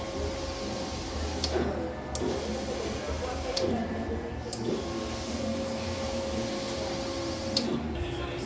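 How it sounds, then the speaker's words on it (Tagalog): An inkjet printer with an ink tank runs a nozzle test, giving a steady mechanical whir with periodic ticks and clicks from the print head moving, while a person talks over it. "Nozzle test."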